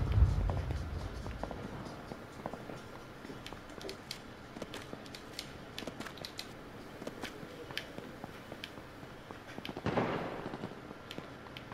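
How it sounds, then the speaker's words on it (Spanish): Gunfire in the PS4 beta of H1Z1, scattered sharp cracks and pops at varying distances, some faint and far, with a louder burst near the end. "Hay tiros para allí, tiros por aquí."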